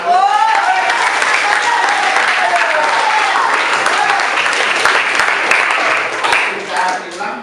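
A classroom of students gives a sustained round of clapping, loud and dense for several seconds before thinning out near the end, with voices chattering underneath.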